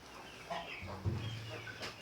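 Chickens in a clean coop in Muğla, with soft clucks and a few brief calls, fairly faint and close amid quiet background noise.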